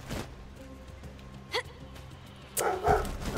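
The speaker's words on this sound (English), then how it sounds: "What are you barking at, boy?" A dog barks a few times in the video game Borderlands 2, short sharp yips spaced apart over a low droning musical background, fairly close and clear.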